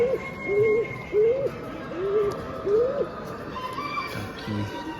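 Pigeons at a large pigeon show cooing in a repeated rising hoot, several calls spaced about a second apart, with hall chatter and murmuring in the background.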